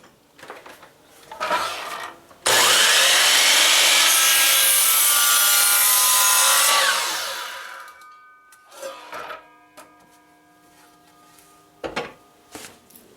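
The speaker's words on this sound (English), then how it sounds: "So we'll head over to the miter saw and we're going to chop these off." A miter saw rips through 2x4 lumber in one loud sustained cut of about four seconds, then winds down, with scattered handling clunks and thumps of wood before and after.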